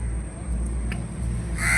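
Crows cawing nearby over a low rumbling background while prawns are being cleaned, a few harsh calls standing out near the end.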